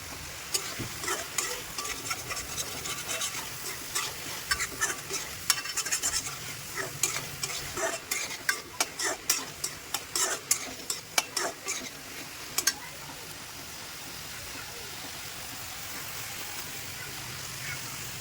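Shrimp frying in a pan beside a pot of rice on a home gas stove, with a steady sizzle under repeated scraping and stirring strokes. The utensil clicks stop near the end and the sizzle carries on alone.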